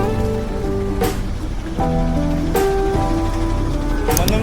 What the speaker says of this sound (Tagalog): maulan nga dito sa amin ngayon